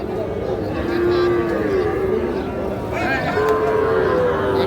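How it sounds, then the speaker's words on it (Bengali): Young calves at a livestock market moo loudly nearby in several drawn-out calls, one after another, with crowd chatter and a voice speaking in the background. "এই দেখছেন দুটো সার বাছুর।"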